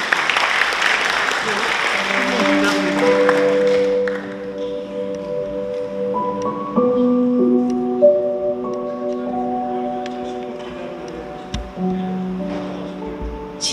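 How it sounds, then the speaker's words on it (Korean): Warm audience applause at a Gaya history research conference fills the first few seconds before a poetry recitation, then fades under steady, sustained musical tones. "따뜻한 박수를 보내주시면 힘이 날 것 같습니다."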